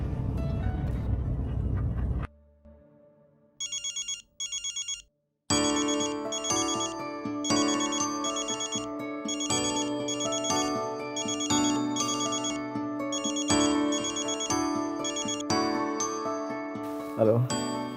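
A mobile phone ringtone plays a bright, repeating melodic tune as an unanswered call, starting after a brief burst of other sound and continuing loudly for many seconds with short gaps between cycles.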